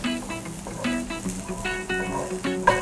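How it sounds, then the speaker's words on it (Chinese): Garlic, ginger slices and shallots sizzle as they fry for a village-style goose casserole pot. A steady, close crackle runs throughout with a tonal background hum. "已经听到咧滋滋声啦。"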